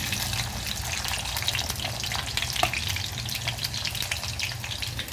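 Potatoes sauté in a pan for a mixed vegetable bhaji, producing a loud, dense crackling sizzle with the scrape and shuffle of stirring running continuously and close up.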